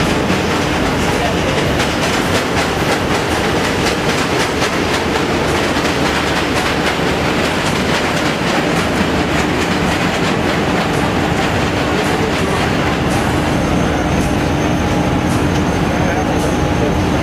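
New York subway train crossing the Manhattan Bridge, a loud, continuous rumbling roar with rapid rhythmic clattering of wheels on rails and a faint metallic squeal late on, heard close and alone.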